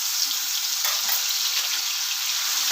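Ginger, green chili and garlic paste frying in hot oil with whole spices for chhole paneer masala, a steady, dense, close sizzle throughout with no voices.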